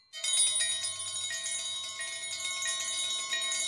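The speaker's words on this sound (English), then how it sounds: "These bells have little bells inside the bells." Many small bells jingle and ring together in a cartoon room, a bright continuous shimmering chime that starts abruptly and holds steady at close range.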